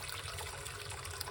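Water pours steadily into a pot, a continuous close splashing, trickling stream at moderate level throughout with no other sounds.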